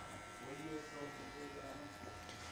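Electric hair clipper with a no. 1 guard buzzing steadily while trimming a mid fade haircut, a continuous close motor hum over soft background voices.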